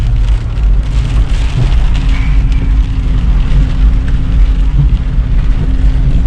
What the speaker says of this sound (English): There was just rain everywhere.